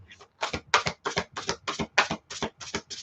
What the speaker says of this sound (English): Do you want me to keep shuffling or choose another deck?